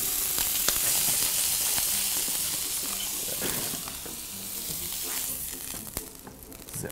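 A rack of lamb sears in a frying pan, a loud continuous sizzle and crackle of hot fat throughout, easing slightly near the end.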